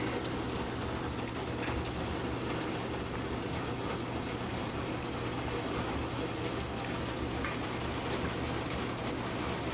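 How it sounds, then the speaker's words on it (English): Heavy downpour drumming on a skylight during a summer storm with overflowing gutters, a steady dense wash of rain noise holding constant and loud throughout with a low hum underneath. "the sound of the rain, all the rain hitting the skylight"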